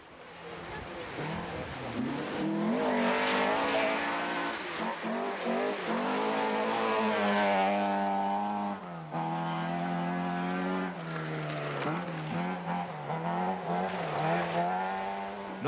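A 2-litre Ford Escort rally car charges through a Scottish forest stage in the 1989 Scottish Rally Championship, its engine roaring loud and close for a long sustained run, pitch rising and falling with gear changes.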